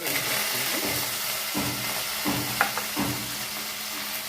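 Onions, curry leaves and coriander sizzling in a hot pan, a steady close frying hiss broken by a few soft stirring scrapes, with no talking.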